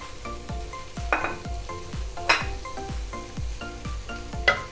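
Cut green chillies drop into a frying chicken curry base, giving a steady sizzle with repeated clinks of a spoon against the pan and occasional louder spatters; no voices.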